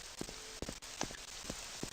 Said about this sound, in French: Ah tiens, il pleut.